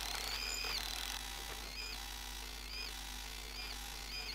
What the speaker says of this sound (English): Drilling pocket holes on the side panels.